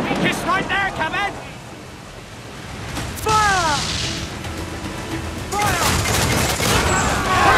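Ship cannon fire in the pirate game Assassin's Creed 4 Black Flag, heavy booming blasts over ocean waves and wind, with loud bursts near the start, midway and toward the end, while people shout and talk throughout.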